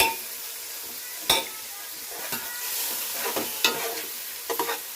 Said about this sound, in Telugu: బాగా కలపాలి.